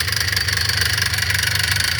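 A Polaris Trail Boss 350L ATV engine with a bad clutch runs steadily, a loud, close, continuous rumbling idle with a fast pulsing throb and no voices.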